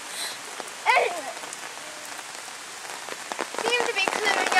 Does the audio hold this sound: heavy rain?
yes